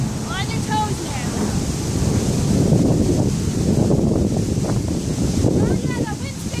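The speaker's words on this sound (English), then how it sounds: "that wind's picking up" Strong wind blows outdoors during a rainy outdoor bootcamp workout, a broad roaring gust that swells and holds loud against the microphone, with faint voices briefly audible at the start and end.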